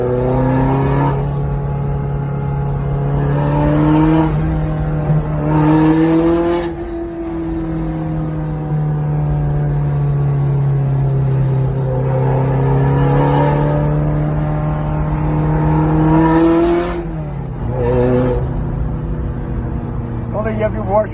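A 1989 Ferrari 348ts engine, 36 years old, revs loudly and steadily, its pitch rising and falling in several wind-ups and drops across the stretch, heard from close by.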